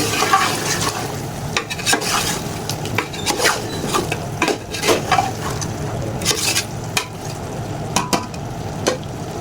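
A spoon stirs roasted potatoes into chicken pulao in a pot, giving repeated scraping and clattering strokes over a soft steady sizzle, close and moderately loud with no talking.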